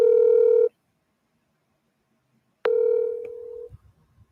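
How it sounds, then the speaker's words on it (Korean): A steady telephone dial tone sounds briefly, stops, then returns after a silence and cuts off, followed by faint clicks and a short beep, close and clear. "한번 전화를 주셔서 전화를 연결 중에 있습니다"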